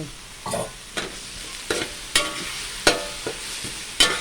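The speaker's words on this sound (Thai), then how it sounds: "ผัดเนื้อไก่ให้สุก" Chicken being stir-fried in a pan for basil stir-fry with salted egg: bursts of sizzling and spatula scrapes recur roughly every half second, with clinking strikes against the pan and no voices.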